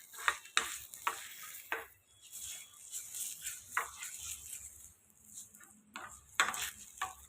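Chopsticks mix a sauce just doused with hot oil for Korean noodles, giving close, intermittent scraping clicks and light taps in uneven bursts against a quiet background, with no talking.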